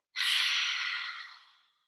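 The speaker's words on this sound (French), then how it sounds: "à l'expiration par la bouche, videz vos poumons" One long exhale pushed out through the mouth during a yoga breathing exercise, a breathy rush that starts sharply and fades slowly over about a second and a half.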